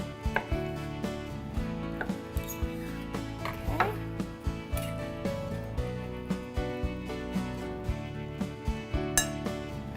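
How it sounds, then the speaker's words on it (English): A knife chops tofu on a cutting board in a steady run of close, crisp taps, with a few light clinks from dishes mixed in. "I'm also going to cut up some of my tofu"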